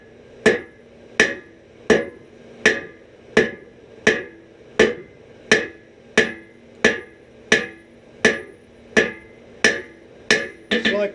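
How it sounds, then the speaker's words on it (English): Steady hammer blows on hot metal at a forge during forge welding, about fourteen sharp ringing strikes at an even pace, close and loud, with a quicker flurry at the very end. "We're going to hammer this joint."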